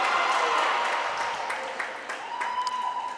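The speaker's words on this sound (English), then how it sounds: "Loud cheers from the Welsh crowd" Welsh crowd cheering and applauding at a Commonwealth fencing championship finals bout, a broad steady roar of cheers and clapping that holds loud throughout and eases slightly toward the end.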